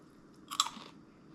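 Someone bites into crunchy roasted peas, a snack like corn nuts, giving one loud, close crunch followed by brief chewing.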